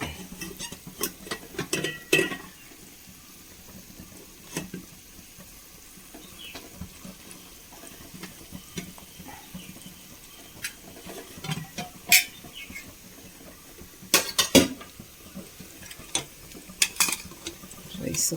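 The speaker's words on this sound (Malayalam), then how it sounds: "നമുക്ക് ഇതിലേക്ക് റൈസ് ഇട്ട് കൊടുക്കാം" Rice tipped into a pot of mushroom biryani masala, with scattered clinks and scrapes of a spoon against the metal pot, soft stirring in between, and quiet, fairly close kitchen handling.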